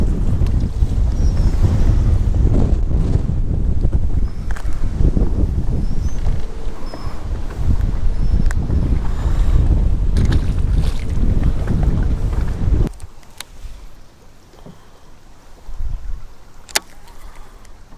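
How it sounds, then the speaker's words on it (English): Strong wind roars and buffets across a fishing boat on the Mississippi River. The gusts are loud and rumbling, then drop away to a quieter lull near the end, with a few faint knocks. "Really cool if that wind was gonna die down"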